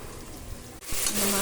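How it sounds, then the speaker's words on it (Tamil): Ginger garlic paste frying in a pan for biryani, with a steady hiss that swells into a louder, brighter sizzle partway through, close up. "இந்த மாதிரி நல்லா ஃப்ரை பண்ணிக்கோங்க."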